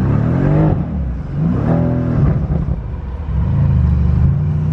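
A car engine revs repeatedly as the vehicle sits stuck in snow, loud rising and falling surges with whirring pitch sweeps, three strong pushes with brief easing between, no voices.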